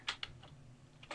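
Fingers tap on a computer keyboard while entering text in an Outlook 2016 email signature field, a few soft separate key clicks over quiet room tone.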